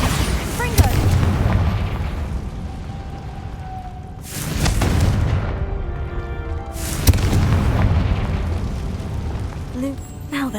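Two heavy booming blasts from the Bombarda spell in Hogwarts Legacy go off a few seconds apart, each a deep loud explosion with a rumbling tail, under game music and voices.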